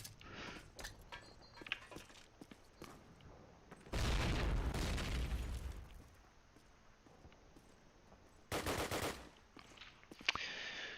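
Counter-Strike match on the map Dawnville with gunfire crackling throughout, and two loud bursts of blast noise, a long one and a shorter one later, standing out over the quieter shooting.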